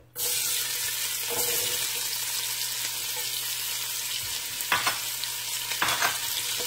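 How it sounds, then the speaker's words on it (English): Onions and celery sizzling in hot oil for smothered chicken, a loud steady hiss that starts abruptly as they hit the pan, with a few stirring scrapes near the end and no talking. "We're going to add in our onions and our celery."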